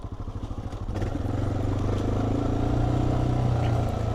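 A 2025 Honda XR650L single-cylinder motorcycle thumps close by over a rutted dirt section, its low pulsing engine rising as the rider accelerates, with steady rumble and some clatter from the rough ground.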